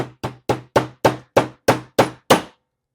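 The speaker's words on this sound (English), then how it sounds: "I would tap these in with a hammer or a mallet." A small plastic mallet taps end caps into place on a stand: nine sharp, evenly spaced taps, close and loud, with nothing else heard.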